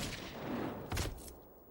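A single rifle shot fired with a reduced powder charge lands as a dull, muffled crack near the middle, followed by a brief, fading tail against soft background noise.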